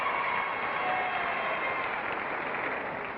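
Steady, full applause from a studio audience at a 1964 television game show, continuous and dense for several seconds with a slight fade toward the end.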